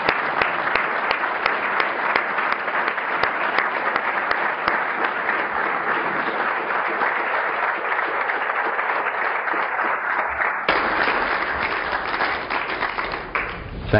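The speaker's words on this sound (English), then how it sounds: "I think that's worthy of another round of applause for Keith." A seminar audience applauds a biomedical computation and imaging speaker with long, steady, dense clapping that fills the hall, then briefly shifts in tone and tapers off near the end.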